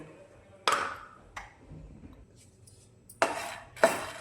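Makhana (fox nuts) dry-roasting in a pan over a low gas flame while being stirred continuously, giving a few quiet, close scraping and clinking strokes spaced apart.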